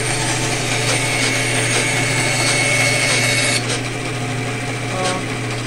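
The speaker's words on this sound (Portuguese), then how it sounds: "Tá aí a minha serra." A homemade vertical band saw cuts wood with a loud, steady mechanical whine and rattle that runs unbroken through the clip and eases slightly near the end.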